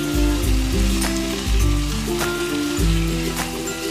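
Boneless lamb karahi sizzling in a pan over low heat, a dense continuous frying crackle with repeated stirring scrapes and low thumps of the pan, close and fairly loud.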